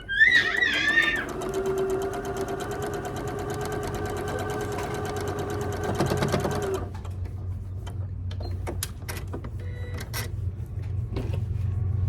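Sewing machine stitching quilt block units together, a steady mechanical whir with a rapid needle chatter that runs for several seconds and then stops, leaving quiet handling noise and faint clicks.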